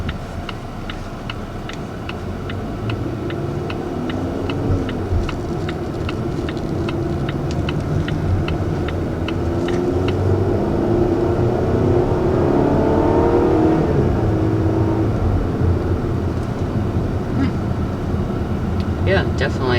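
Cabin sound of a 2020 Volvo XC40 in Polestar mode pulling away from a red light, with a steady turn-signal tick early on and then rising engine tones as it accelerates. Occupants talk over the engine.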